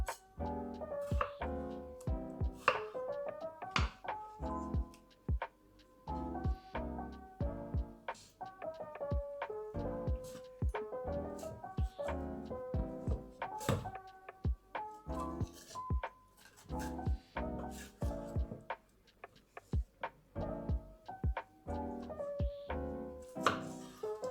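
Knife chopping bell pepper finely on a cutting board: a long run of quick, crisp, close taps, steady and busy, with no talk over it.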